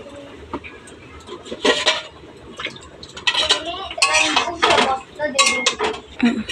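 Metal pot of greens being handled and covered with its lid, a series of close clanks, scrapes and clinks in irregular bursts, with someone speaking in between.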